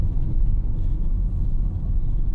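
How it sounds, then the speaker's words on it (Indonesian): A 2015 Honda HR-V S CVT rolls over a paving-block road, captured from outside with binaural in-ear microphones: a steady, close low rumble of tyres and engine with a continuous grainy drone and no talking. "kalau kita di jalan konblok suaranya seperti apa dari luar"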